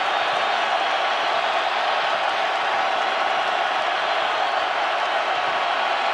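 Stadium crowd at an NFL game, Dallas Cowboys at Minnesota Vikings, giving a steady, far-off roar that holds evenly without peaks, like sustained cheering across a large venue.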